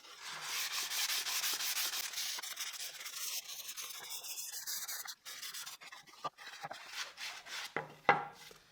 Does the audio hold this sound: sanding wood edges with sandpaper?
yes